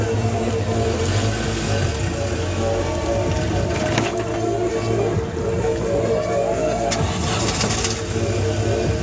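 A UAZ Hunter diesel engine running loud and close throughout at a ladies' off-road trial, with a steady rough drone and a couple of brief surges in revs.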